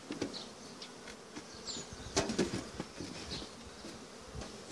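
Honey bees buzz near a hive box in the open. Many close, overlapping drones swell and fade with passing insects, moderately loud and with no talk.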